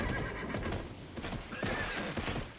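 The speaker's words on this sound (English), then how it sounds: "so I know that is the horse named Horse" Horse neighing with hooves clip-clopping from an animated fantasy series, a shrill whinny over steady hoofbeats with a second neigh rising near the end, fairly loud and close, with no talk.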